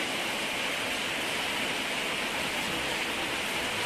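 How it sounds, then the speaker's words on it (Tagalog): Steady rain falls with an even, unbroken hiss, dense and constant throughout, with no voices or other sounds standing out. "Humina na yung ulan."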